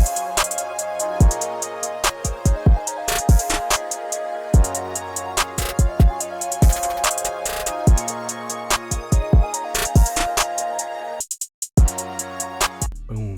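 Boosted rack kick drum with brightened highs and a soft clipper in a synthetic trap beat, punchy repeated thumps in a syncopated pattern over sustained synth tones, with a brief dropout near the end.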